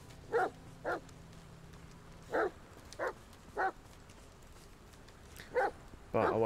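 A dog barks in the video game The Medium, with short separate barks coming irregularly over a soft ambient background, moderately loud and fairly close, the last bark longer.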